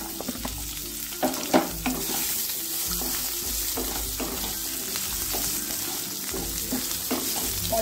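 Potatoes fry in oil in a pan with a steady sizzle, broken by repeated scraping and knocking as they are stirred.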